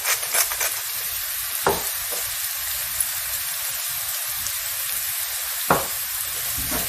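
Onions softening in a pan with turmeric, salt and pepper get a gentle stir: a steady soft sizzle with a few brief scraping strokes, close and moderately quiet, with no talking.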